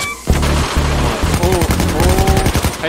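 Nailgun fire in the Payday 2 video game, rapid bursts of sharp repeated shots starting abruptly and continuing in quick volleys, loud and close, with game sounds mixed in.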